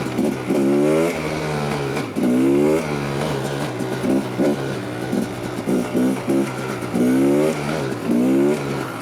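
A new motorcycle fitted with a twenty-year-old engine revs hard on a small motocross track, with repeated rising throttle bursts that climb and fall in pitch and stay loud and close throughout.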